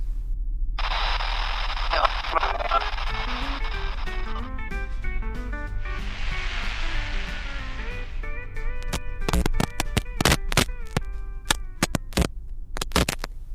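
Crackling radio static and hiss mix with warbling tones and a low hum, ending in a burst of sharp, irregular clicks.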